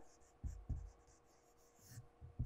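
Pen or marker writing a title on a classroom sign, several short scratchy strokes in bursts, faint and close, with occasional quiet speech in the background.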